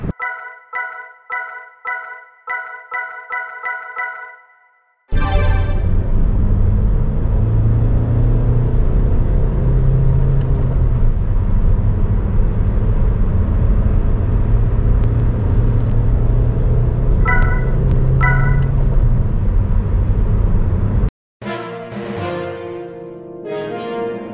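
A 2007 Toyota Corolla Verso with a 2.2 D4D 136 hp diesel engine driving on the road: a loud, steady low engine drone and road rumble lasting most of the clip, bracketed by short musical tones before and after.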